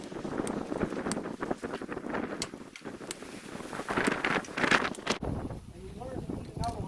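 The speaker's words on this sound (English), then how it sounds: "it's windy out. It's knocking everything down" Strong wind gusts outdoors buffet the microphone in rumbling, uneven bursts around a Jeep TJ being fitted with a CB antenna, with someone talking over the noise.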